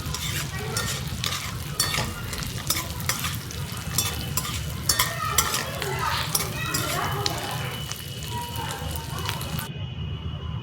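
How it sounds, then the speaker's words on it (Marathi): Edible gum frying in plenty of desi cow ghee for dry fruit laddoos crackles and sizzles steadily up close, with frequent popping and stirring, while someone talks over it. "आता भरपूर तूप टाकते गाईचं तूप आहे आमच्यात देशी गाईचं आता डिंक तळून डिंक पण भरपूर घातलाय"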